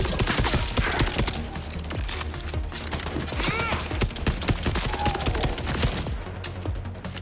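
Gunfire in Borderlands 4 rattles in dense, continuous volleys of rapid shots and blasts, loud and close throughout with no pauses.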